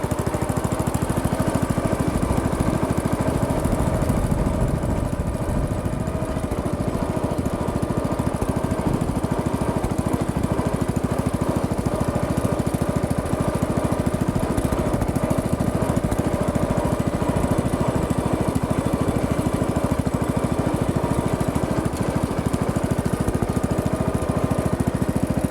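A log splitter's small engine runs steadily out in a field, a loud, continuous droning hum holding level throughout with no voices over it.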